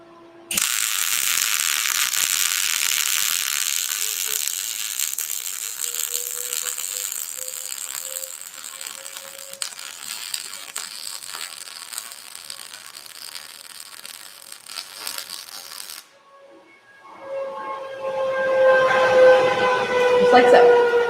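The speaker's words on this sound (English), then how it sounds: "When you're MIG welding, you do not want this tip entirely buried into your piece of metal." A MIG welder runs on steel with the contact tip buried in the metal, giving a long, steady, harsh crackling buzz that stops briefly and then resumes with a rising tone.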